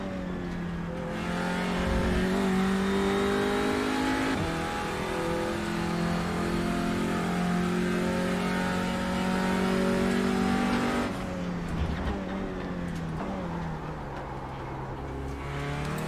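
A race car in iRacing drives hard with its engine revving in long, loud sweeping pitches, easing off briefly before climbing again, the tires skidding and sliding across the road.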